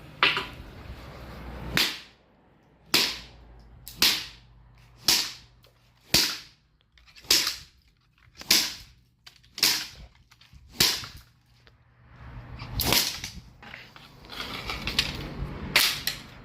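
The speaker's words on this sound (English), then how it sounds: "I'm going to whack it with a stick 10 times." Ten sharp, loud whacks of a stick against a Glacier Bay toilet, struck one at a time in a fairly even rhythm of about one per second, followed by a scrappier run of quicker, rougher knocks and rattles.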